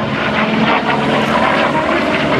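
A Grumman Bearcat propeller fighter flies at an airshow, its 4000 hp piston engine giving a loud, steady, throbbing drone with no voices on top.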